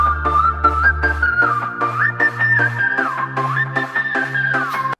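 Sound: whistling, from a Peppa Pig cartoon

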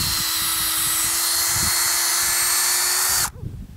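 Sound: drilling into walnut tree bark

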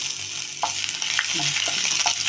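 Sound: frying ginger and garlic in oil

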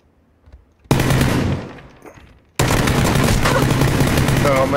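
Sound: gunfire sprayed from an automatic gun in the video game PUBG

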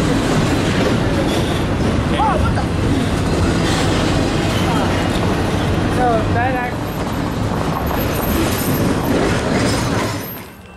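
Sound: eastbound intermodal freight train passing

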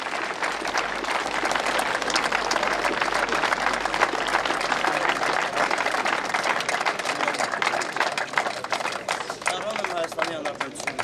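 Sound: audience applause for an honoured young soldier

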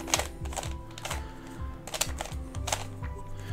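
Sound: hedgehog puzzle cube being scrambled

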